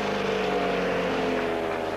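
A Lotus-engined Talbot Sunbeam rally car leaves the start ramp at the 1980 Manx Rally, its engine a loud, sustained, steady roar held close by for the whole moment.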